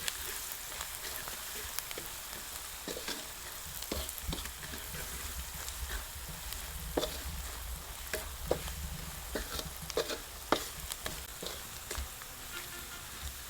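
Onion and tomato frying with spices in a pan, a steady close sizzle with scattered sharp pops and the clatter of stirring throughout.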